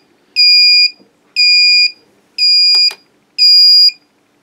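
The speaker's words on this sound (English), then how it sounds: "We expect it to be beeping." A racing drone, a TBS Vendetta with an XSR receiver, waiting for a radio link: four loud, evenly spaced electronic beeps, each about half a second long with bright harmonic overtones, followed by a faint brief click.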